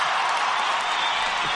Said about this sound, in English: Why don't you ever give me the round of applause when I win?